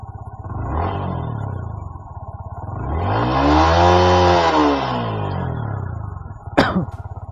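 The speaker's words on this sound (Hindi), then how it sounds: "एक बार आपको उसका एग्जॉस्ट सुनाता हूँ।" A Yamaha MT-15 motorcycle exhaust revs up close, the engine note rising to a loud peak and falling back to a steady idle, ending with a sharp click.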